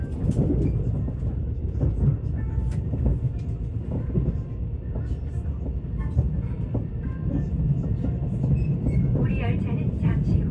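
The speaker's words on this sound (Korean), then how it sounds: "열차는 시속 70km대의 속도로 한강철교를 건너며 곧 영등포역에 도착하기 위해 서서히 속도를 줄이기 시작했어요" A Mugunghwa train crosses the Hangang railway bridge at around 70 km/h while slowing for Yeongdeungpo Station, heard from inside as a steady loud rumble with rattling and clicking, with a voice talking over it.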